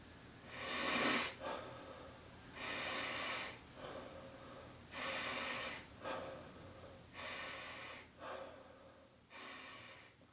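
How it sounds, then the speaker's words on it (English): Wim Hof breathing exercise: five deep, loud, close breath cycles, each a hissing, rushing inhale through the nose or mouth followed by a softer relaxed exhale, in a steady rhythm. "I'm about to start the breathing exercises right now."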